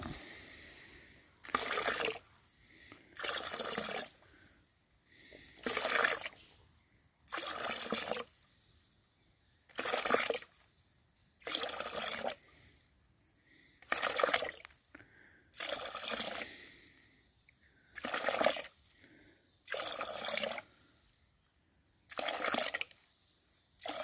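Water surging from the outlet pipe of a Bunyip PA13 pump in regular pulses, each gush lasting about a second with quiet gaps between, repeating roughly every two seconds at a steady rhythm, close by and with no voices.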